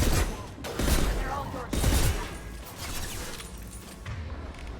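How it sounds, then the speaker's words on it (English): Assault rifle fire in Mass Effect 2 (Legendary Edition) combat: loud, dense bursts of rapid shots in two main volleys, then a lower rumble of continued battle. "Shoot my assault rifle."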